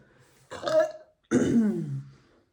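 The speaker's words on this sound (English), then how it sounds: "My burps are tiny today." Two burps from a person eating at a tacos mukbang, a short one followed by a longer, deeper one after a brief pause, close and clear with no talking.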